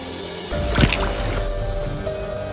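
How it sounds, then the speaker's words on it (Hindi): A clod of earth splashes into water once, a single close plop followed by a brief gurgle over a steady background hum. "ये मिट्टी का डेला तो पानी में जाके घुल गया होगा"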